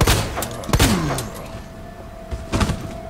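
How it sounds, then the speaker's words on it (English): A single in-game gunshot from Resident Evil 2 fired at a body on the floor, a sharp loud crack near the start followed by thuds and quieter ambient game sounds. "I'm gonna shoot him once"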